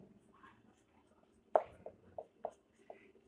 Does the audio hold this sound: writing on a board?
yes